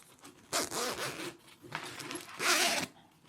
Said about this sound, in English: So I've got a waterproof zipper, which we would use in a coat.